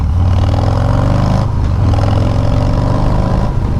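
Harley-Davidson Sport Glide V-twin idling and revving through a Bassani Road Rage 2-into-1 exhaust, a loud, close, continuous low rumble with a brief dip in the middle, no talking.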